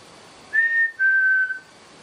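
A person gives two clear whistled notes in a very quiet room, the first slightly higher and the second held longer and lower, with no talking.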